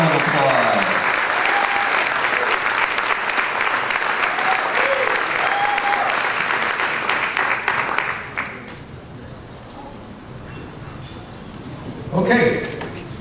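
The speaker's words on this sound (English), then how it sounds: "Let's give him a big round of applause." Loud, dense audience applause fills an awards ceremony honoring a stepfather of the year, holding steady for about eight seconds before fading to a quieter room with scattered clapping and a brief swell near the end.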